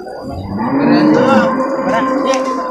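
A water buffalo bellows at an early-morning livestock market in Purwakarta, a single loud, drawn-out low moo with market noise in the background.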